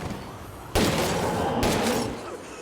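Gunfire in the video game State of Decay 2, two sharp, loud bursts of shots less than a second apart, each followed by a dense, crackling wash that slowly fades.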